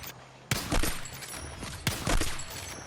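Sniper rifle gunfire in Battlefield 6: two loud, sharp shots about a second and a half apart, each followed by a dense rumble of battle noise and echoing fire.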